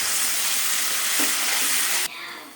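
Onion, ginger and garlic paste frying in a pan for an ivy gourd kurma gives a loud, steady sizzle that drops off abruptly near the end.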